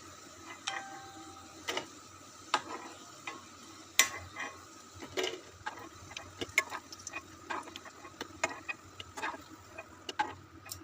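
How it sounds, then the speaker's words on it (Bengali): Fish roe fritters frying in a pan, a low steady sizzle broken by frequent sharp clicks and taps of a utensil against the pan. "এবার বাকি বড়াগুলোকেও আমি এইভাবে ভেজে নেব।"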